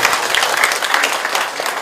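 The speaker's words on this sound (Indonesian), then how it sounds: "Tepuk tangan buat Pak Gubernur." Crowd applause for a provincial governor at a public religious gathering, a dense, steady wash of many hands clapping close and loud from start to finish, with faint voices mixed in.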